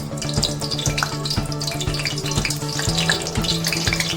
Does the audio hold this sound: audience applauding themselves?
no